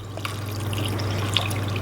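Water pours steadily into a pot of Greek beef youvetsi stew, a continuous close trickling and splashing with a low steady hum underneath and a couple of small drips standing out.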